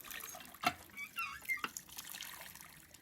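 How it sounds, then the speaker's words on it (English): Water from an old-fashioned hand pump at a historic homestead, splashing and trickling in short irregular gushes, fairly close and soft, with brief louder splashes between quieter dribbles. "Mom is giving a demonstration of how to pump the water"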